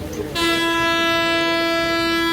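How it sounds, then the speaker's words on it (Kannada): A passenger train on a journey from Mumbai to Kudla sounds its horn in one steady, loud, sustained blast that starts abruptly after a moment of rumbling and holds to the end. "ನಮ್ಮ ಟ್ರೈನ್ ಇದು"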